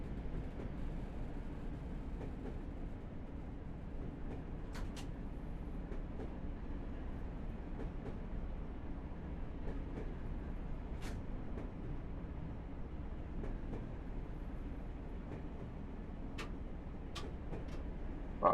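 A Class 37 'Thumper' diesel is not stated; a thumper diesel train runs steadily on the Severn Valley Railway in Train Simulator 2017, with a constant low engine drone and occasional faint clicks of wheels over rail joints, no voices.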